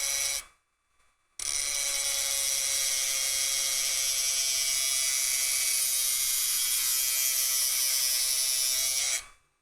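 A Dremel rotary tool runs at high speed cutting a part, a loud steady high-pitched whine that starts, stops briefly, then holds for about eight seconds before cutting off.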